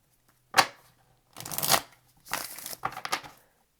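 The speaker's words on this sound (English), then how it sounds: "Let's do one more shuffle." A deck of tarot cards is shuffled close up in three quick riffling bursts, separated by short pauses, with no talking.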